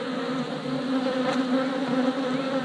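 Honey bees swarm and buzz around a new hive, a steady dense drone of many wings that holds close and even throughout with no voices.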